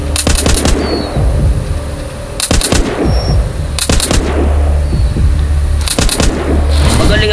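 Gunfire from the video game The Walking Zombie 2 comes in four sharp, loud bursts of rapid shots spaced a couple of seconds apart, with a low game rumble and small effects in between.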